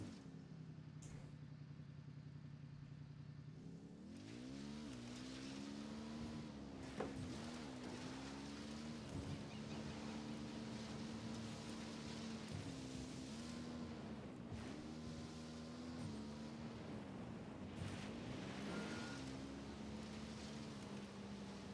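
A motorcycle engine drones steadily while riding in a video game, a continuous mid-pitched hum that rises and falls slightly with throttle changes, loud and alone throughout.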